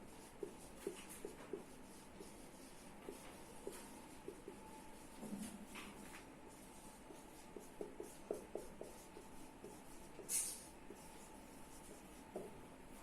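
Pen strokes write out a sentence, a faint, close scratching with soft irregular ticks and short rubs over a low room hiss, quiet and without talk.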